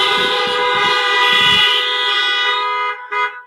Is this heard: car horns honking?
yes